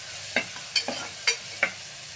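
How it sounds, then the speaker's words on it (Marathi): Chopped onion sautéing in a pan as a spatula scrapes and stirs in four or five brief distinct strokes over a soft low sizzle, close by with no voices. "कांदा चांगला आपल्याला परतून घ्यायचा आहे"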